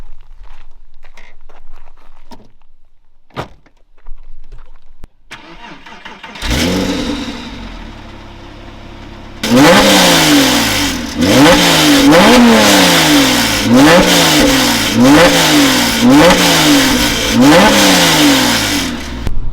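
A Porsche 911 Carrera 4S flat-six cranks and fires up, settling into a steady idle before a series of loud, rhythmic revs rise and fall repeatedly up close.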